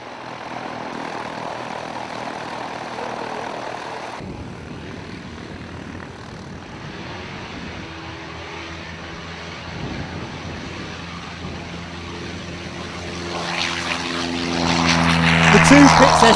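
At an airshow, two Pitts S2B biplanes and an Edge 540 aerobatic propeller plane drone in the distance, their engine hum swelling louder toward the end, while a commentator talks throughout.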